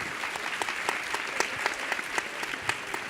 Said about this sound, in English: give a big round of applause for our panelists